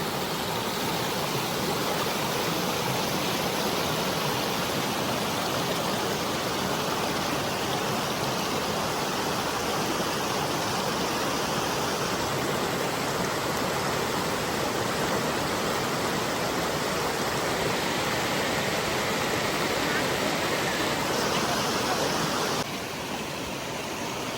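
A waterfall pouring steadily, a dense, loud, continuous rushing roar of falling water heard close by with no talk.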